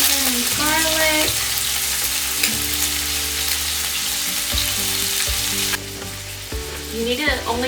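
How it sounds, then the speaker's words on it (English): Ginger and garlic sizzling in warm oil in a wok for spicy Dan Dan noodles, a continuous loud close hiss with a few tonal clinks and scrapes, the frying carrying on without talk. "I'm gonna throw in my ginger and garlic first. So I'm adding in my ginger and garlic."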